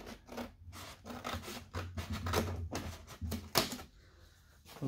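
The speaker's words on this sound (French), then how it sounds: "là, je vais venir couper le surplus" Scissors snipping off excess balloon material while assembling a balloon letter structure, a rapid series of close, crisp cutting and rustling sounds with brief pauses.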